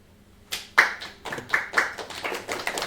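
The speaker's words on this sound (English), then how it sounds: "Premature clapping. Hold it in." A small audience breaks into brief scattered clapping at an indoor game developer meetup, a handful of separate claps building into a light, uneven patter with no voices over it.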